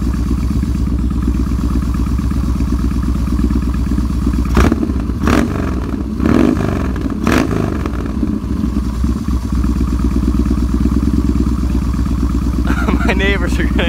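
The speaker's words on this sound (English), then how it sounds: "I'll give it a couple revs, let you hear it. Thing's barking." A Yamaha Bolt motorcycle fitted with a new Dean Speed exhaust idles with a deep, loud rumble, then barks through several sharp throttle revs close by, with a voice briefly at the end.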